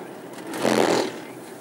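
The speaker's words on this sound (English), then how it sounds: "It's just the rumble strip there on the side of the road." A brief swelling rumble of a 2008 BMW 328i's tires running over a roadside rumble strip, rising and fading within a second over steady road noise.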